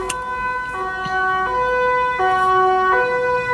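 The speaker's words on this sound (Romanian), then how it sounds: "A trecut ambulanța, am așteptat să treacă pentru că altfel nu m-ați fi înțeles." An ambulance siren passes nearby on a street, its two-tone wail alternating steadily and growing louder as it approaches, clear and prominent over light traffic noise.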